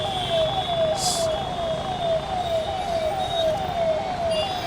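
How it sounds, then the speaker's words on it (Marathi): Ambulance siren stuck in jammed traffic, wailing in a steady repeating rise-and-fall pattern over road noise, with a brief horn-like burst partway through. "ॲम्ब्युलन्सचा आवाज तुम्ही पाहू शकता"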